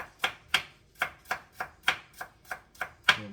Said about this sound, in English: I slice the Irish potato real thin so it cook and melt and thicken the sauce, the curry sauce